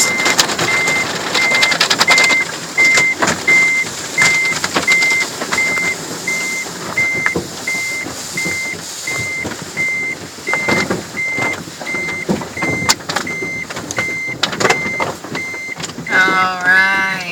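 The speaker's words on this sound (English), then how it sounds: "here comes the scrubbers" Car wash scrubbers run with a steady mechanical whir and swishing, a repeating electronic beep pulsing throughout, and a brief high whine near the end.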